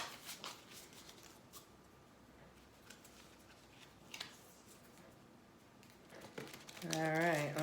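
Oracle cards being shuffled by hand, soft papery riffles and slides recurring faintly through the clip with a quiet background, and a voice breaking in near the end.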